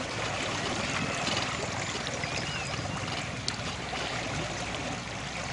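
A boat running at full speed on a Haswing electric trolling motor moves steadily through water, with a constant low hum and splashing, rushing water throughout, no voices.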